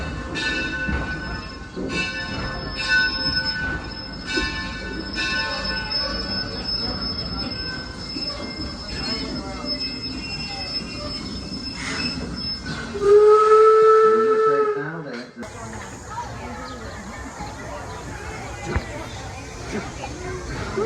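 A steam-style whistle on a Model T excursion train at Torch Lake gives one strong, sustained blast of about two seconds, rising over the rumble and squeal of the cars on the rails, with voices in the background.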